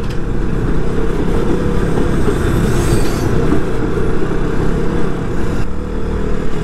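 A train passes close by at Farakka Barrage, a loud, continuous rumble of rolling wheels and rail noise that holds steady for the whole stretch.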